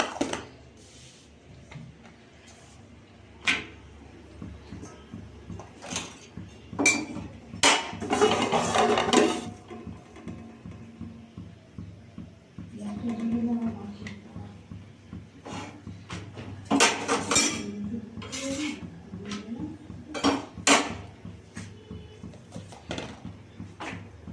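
Pans, a tawa griddle and utensils clatter in a home kitchen while rotis are roasted, with sharp metallic knocks and clinks scattered irregularly, some clustered in busy bursts, fairly close and alone without talk.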